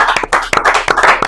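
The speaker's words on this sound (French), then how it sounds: "on peut applaudir pour" A studio audience clapping for a winner on a French general knowledge quiz show, a short burst of sharp, close, uneven hand claps.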